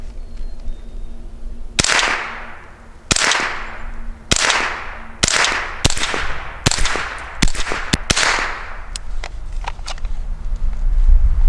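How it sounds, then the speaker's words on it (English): A Tippmann .22 LR rifle fires a string of about ten sharp, loud cracks outdoors, spaced unevenly, some close together, each with a short ringing tail. "let's send some rounds downrange"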